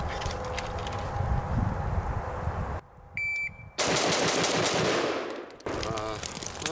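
Rapid bursts of rifle fire from a Midwest Industries MI-10F during shooting drills, loud and close, with dense strings of shots broken by a couple of brief pauses.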